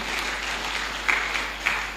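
A church congregation at a Sunday worship service applauds in a steady wash of clapping, with a few sharper claps standing out, heard alone without talk.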